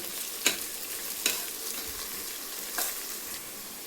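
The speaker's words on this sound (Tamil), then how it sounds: "நல்லா வதங்கட்டும், கொஞ்சம் நல்லா கோல்டன் ப்ரௌனாக வதங்கட்டும்." Small shallot onions fry in oil in a pan for a mutton curry, giving a continuous soft sizzle at close range, broken by a few scraping stirs of a spoon.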